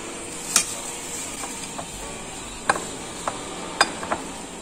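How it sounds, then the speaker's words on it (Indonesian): A seasoned flour mixture with mushroom broth powder being stirred, giving a few sharp scraping clicks against the bowl at irregular intervals over a steady low background hiss. "Kita aduk rata supaya tepungnya ada rasa ya."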